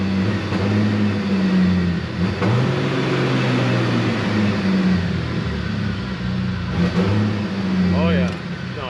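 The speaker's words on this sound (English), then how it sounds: "it's like backfiring and all kinds of madness" Vehicle engine stuck at high RPM on a winter trail, droning and revving loudly with steady tones that rise and fall, a few sharp pops in between, and some talk over it.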